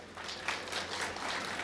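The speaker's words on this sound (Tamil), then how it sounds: "நல்லா கைதட்டுங்க." Listeners at a Tamil motivational lecture applaud, a dense, moderately loud patter of many hands clapping continuously throughout, with a faint low hum underneath.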